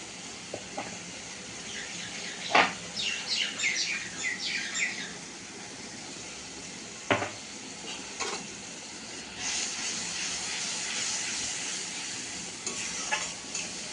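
Pointed gourd coated in turmeric frying gently in oil, with a soft continuous sizzle broken by intermittent spatula scrapes and stirring clatter, birds chirping faintly in the background and no talking.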